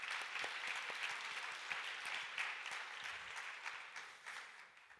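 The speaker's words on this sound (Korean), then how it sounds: "우리 박수로 격려해 주시기 바랍니다." A church congregation at a Korean youth service near Christmas claps steadily for about five seconds. The applause is dense and continuous, with no talking, and it thins slightly toward the end.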